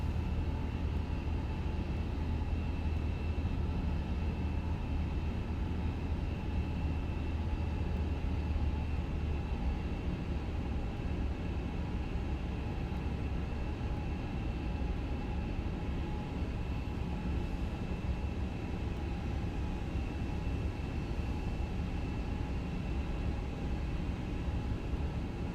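Airbus A350 jet engines at climb thrust in a flight simulator, a steady, continuous low roar with a faint whine that holds level without a break.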